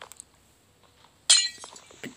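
Glass breaks in a Minecraft survival game: a single sharp clinking shatter bursts out after near silence, followed by a smaller tinkling hit.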